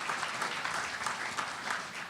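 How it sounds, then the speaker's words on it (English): Audience applause at a policy leadership breakfast, a steady patter of many hands clapping at moderate volume, continuous throughout without speech. "How about a big round of applause for Kevin O'Sullivan here"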